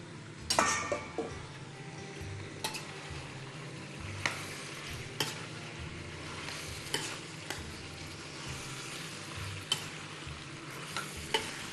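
Peppers and mixed vegetables for kebab stir-fry in a pan, giving a continuous low sizzle with regular sharp clinks and scrapes of a utensil against the pan, fairly faint and without speech.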